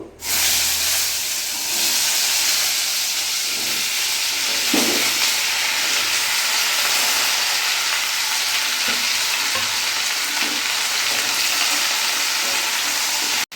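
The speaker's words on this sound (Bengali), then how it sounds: "এটা আমি একটু ভাজা ভাজা করে নিই" Pieces of elephant foot yam fry in hot mustard oil with whole cumin and garam masala, giving a loud, dense, continuous sizzle close by, with a few soft stirring knocks and no talking.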